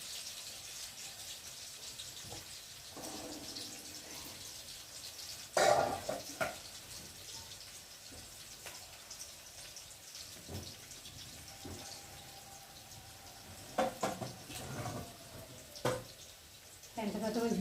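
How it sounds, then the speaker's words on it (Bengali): Starch water drained off cooked rice makes a soft, steady trickling pour with splashes and clinks of the pot, while a person talks intermittently over it. "ততক্ষণ ভাতটা দিয়ে ফ্যানটা ঝেড়ে নিই"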